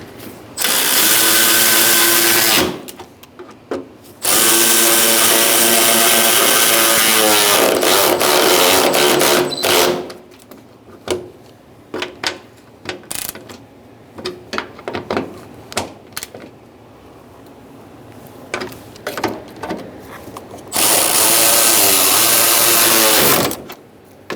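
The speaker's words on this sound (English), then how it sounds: "Now we can take our 10mm socket and snug these up." A 10mm socket tool snugs up bumper bracket bolts on a 2014-2018 Subaru Forester, loud buzzing whirring bursts of a few seconds each with short ratcheting clicks between them, close and alone.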